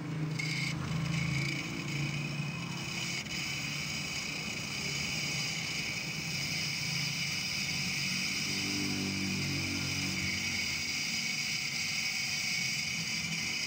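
Repaired box fan motor running steadily with a continuous hum and buzzing whine, moderately quiet and close, with faint handling noises and no speech.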